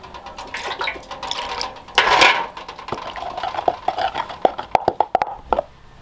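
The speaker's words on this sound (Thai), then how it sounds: "ใส่น้ำลงไปครับพี่น้อง" Water pours into a cooking pot in one short gush while sticky fish laab is being made, followed by scattered light clinks and taps of utensils against the pot.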